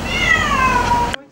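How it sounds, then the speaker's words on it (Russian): A single cat meows off-screen in a house whose ceiling has collapsed, one drawn-out, slightly falling call that is close and clear and then cuts off abruptly. "Кошачье мяу за кадром"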